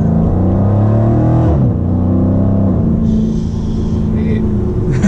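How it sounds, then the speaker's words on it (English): A Dodge SRT with an automatic gearbox drones and revs loudly from inside the cabin while driving, its low engine tone rising and shifting pitch a couple of times. "I barely press the gas, bro."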